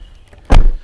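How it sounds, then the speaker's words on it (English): Front trunk lid of an Audi R8 with a water-damaged interior popping open, a single close, solid mechanical clunk with a short thud that fades within half a second. "I'll just open up the front trunk."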